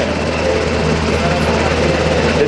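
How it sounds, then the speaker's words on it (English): UH-60 Black Hawk military helicopter at an open house event, producing a loud, steady rotor and turbine roar that fills the whole stretch, close and continuous. "the crew chief of the Blackhawk helicopter"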